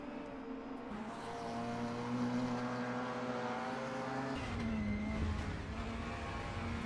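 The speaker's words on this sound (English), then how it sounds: "Feathering the throttle there." Sim race car engine at Sepang North, a steady droning whine held at high revs, the pitch dipping briefly as the throttle is feathered and then settling again.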